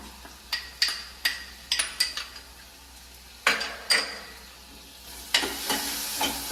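Ginger garlic paste sizzles in a pan over green chillies, with a low frying hiss punctuated by sharp metallic clinks and scrapes of a spoon stirring, close and clear.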